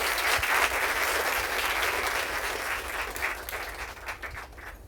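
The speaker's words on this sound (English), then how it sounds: "Please give her a big round of applause." An audience at a Mother's Day event gives a warm round of applause, steady dense clapping from a crowd heard at moderate volume, tapering slightly toward the end.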